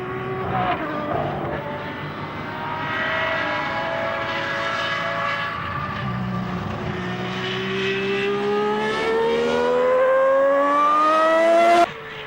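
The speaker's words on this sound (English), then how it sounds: "The 12-cylinder engine snarls as Mansell accelerates away, with apparent disregard for the wet circuit." A 12-cylinder Ferrari racing car engine screams as it accelerates on a wet circuit, its pitch climbing steadily through the gears to a high wail before cutting off abruptly.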